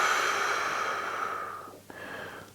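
A long, steady exhale through the mouth during a stretching exercise for tension between the shoulder blades, close and breathy, then a short sharp intake and a second, softer outward breath.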